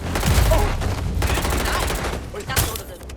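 Gunfire from Watch Dogs: Legion, a rapid volley of close shots with sharp bursts and a loud crack near the end, over game ambience with talking.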